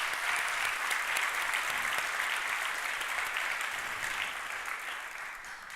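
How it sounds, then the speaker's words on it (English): An award-ceremony audience at the Stockholm Junior Water Prize gives sustained applause, a steady wash of many hands clapping at an even level that fades only slightly toward the end. "let's give her a round of applause to show our gratitude for her dedication"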